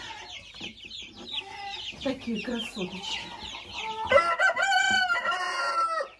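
Young chicks indoors at home cluck and chirp in a busy, overlapping chorus, close by, growing louder and denser toward the end, with a woman's brief remark early on.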